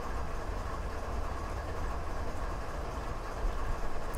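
Train rolling downhill through Canadian mountain passes in Train Simulator 2017, heard as a continuous dense, heavy rumble of rolling wagons at steady loudness with faint rhythmic rail noise.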